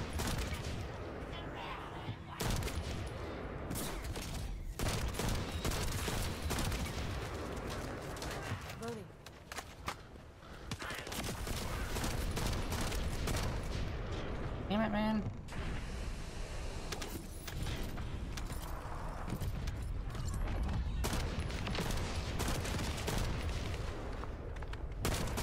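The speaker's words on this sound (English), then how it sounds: "So many shots fired." Rapid gunfire from the shooter video game The First Descendant, with dense bursts of shots and explosions running almost nonstop under the game's loud soundtrack and effects. A player speaks now and then over the action.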